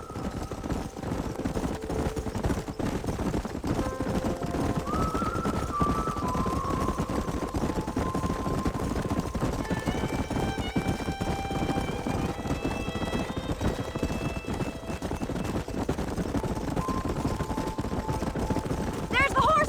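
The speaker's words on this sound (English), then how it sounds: "There's the horses!" Hoofbeats of horses galloping in the Western video game Red Dead Redemption, a steady clip-clop rhythm running throughout under continuous game sound, music and scattered gunfire-like bursts.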